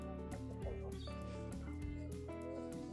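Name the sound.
baby chick chirping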